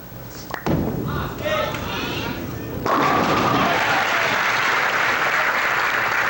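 A bowling ball strikes the pins at the 1982 Pro Bowlers Tour Long Island Open semi-final, a sharp crash followed by loud sustained crowd applause.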